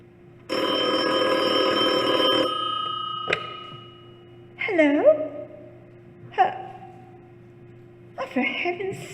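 A single long telephone ring lasting about two seconds, then a voice gasping and speaking in short bursts with pauses between, in the radio drama "Sorry, Wrong Number."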